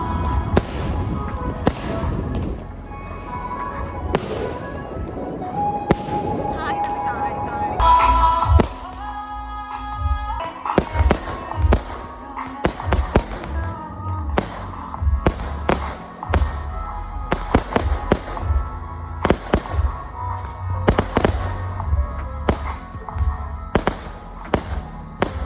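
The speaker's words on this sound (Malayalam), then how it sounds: "എനിക്കിതുപോലെ പടക്കം പൊട്ടുന്നതൊക്കെ കണ്ടുകൊണ്ടിരിക്കാനൊക്കെ എനിക്ക് ഭയങ്കര ഇഷ്ടമാണ്." Firecrackers and fireworks burst outdoors in Kerala, a rapid irregular string of sharp cracks and thumps, some near and loud, over a crackling background with no talk.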